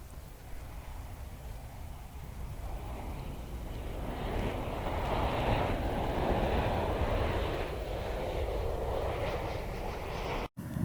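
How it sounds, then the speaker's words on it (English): An airplane comes in to land at Doncaster Sheffield airport: a broad jet-engine roar builds steadily and swells to a peak midway, then holds at a fairly distant rumble, heard outdoors with some wind noise and no talking. "So there's a plane coming in at the moment."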